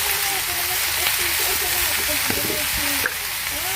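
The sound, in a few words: frying bitter gourd with onion and green chilies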